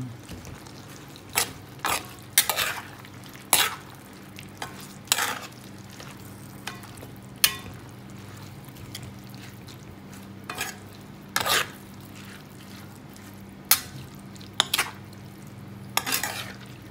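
Homemade togue with sardines being stirred in a pan: sharp, irregular scrapes and clinks of a utensil against the pan over a faint, steady sizzle, close by and quiet.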